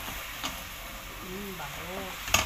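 Onion and garlic frying in oil, a soft steady sizzle under a voice speaking, with a couple of brief clinks from the pan.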